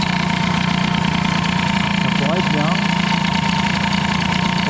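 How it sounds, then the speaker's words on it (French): A Peugeot 103 moped fitted with an air-cooled hybrid setup and an Airsal 65 kit idles steadily and loudly up close, its even buzzing drone running throughout while someone speaks French over it. "là le ralenti, c'est bon. Le ralenti, il est réglé."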